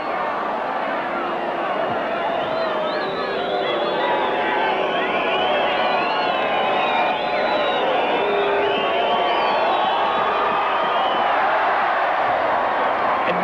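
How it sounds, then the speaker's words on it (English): Dense crowd roar at a 1980 New Zealand versus Great Britain rugby league test match, sustained throughout with murmuring babble and rising cheers, loud and continuous as if heard from within a large stadium. "I thought it was a great big cheer"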